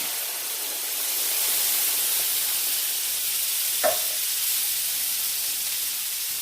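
A can of coconut milk goes into a hot curry pan: a steady, loud sizzling hiss lasting the whole stretch, with one brief tap of a utensil partway through.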